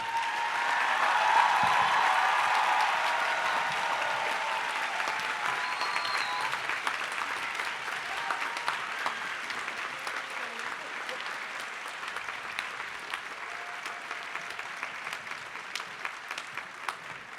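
Sustained audience applause at a college commencement ceremony for College Nine and John R. Lewis College at UC Santa Cruz, a dense, loud wash of clapping from a large crowd that slowly thins and fades over many seconds.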